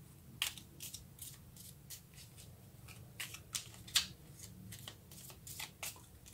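Tarot cards being shuffled and drawn, a run of dry flicking and riffling snaps at an irregular pace, close and fairly quiet, with no one speaking.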